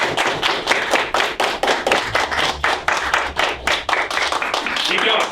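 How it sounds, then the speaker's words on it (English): Students and teachers in a classroom clap together, close, distinct hand claps in a quick uneven rhythm that fades into scattered claps and thuds, with a voice briefly audible near the end. "So let's have a big round of applause for yourself and applause for the teachers."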